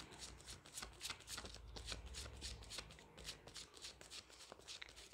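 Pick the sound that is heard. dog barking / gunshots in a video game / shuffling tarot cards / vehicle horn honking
shuffling tarot cards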